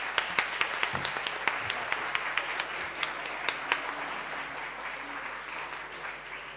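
Applause from an audience at a design lecture at the Politecnico di Bari, moderately distant clapping from a hall that gradually thins and fades toward the end.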